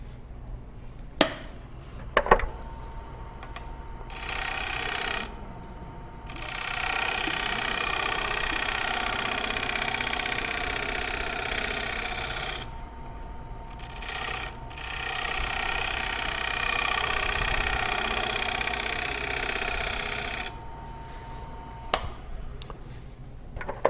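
A wood bowl spun on a running lathe while a tilted tool shear-scrapes it, giving a steady mid-pitched whir with a continuous hiss of cutting that rises in two long stretches, plus a few sharp knocks near the start and end.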